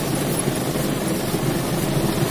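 A car engine idles steadily, heard from inside the vehicle as a low, continuous rumble with no speech.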